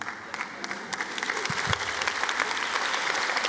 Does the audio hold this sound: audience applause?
yes